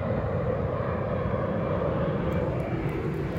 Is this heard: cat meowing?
no